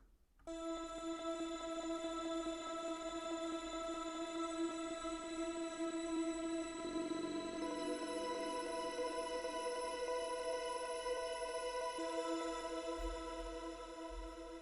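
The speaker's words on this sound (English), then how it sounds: "pad I sort of created using the first drone" A sustained synth pad holds a rich, bright chord, shifting pitch partway through, steady and continuous for the whole stretch.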